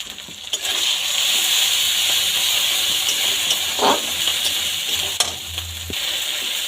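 Garlic paste and chili powder fry in hot oil with a loud, steady hiss and sizzle, close to the pan, broken by a few brief clinks and scrapes as the mixture is stirred.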